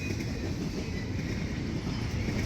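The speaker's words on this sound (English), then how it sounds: "This train is passing the brand new Darth Vader signals here at CP 587" Freight train of mostly single stack containers passing a signal point, a close continuous rumble of rolling wheels and wagons with faint rail squeal above.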